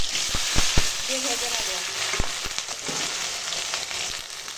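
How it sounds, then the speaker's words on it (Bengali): Hot oil sizzles steadily in a pan with sharp pops and crackles as bay leaves are tempered, while someone speaks briefly over it. "এখন ফোড়না দিলাম তেজপাতা"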